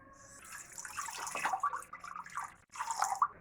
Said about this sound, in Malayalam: നമുക്കതിലേക്ക് ആവശ്യത്തിനുള്ള വെള്ളം ഒഴിച്ചു കൊടുക്കാം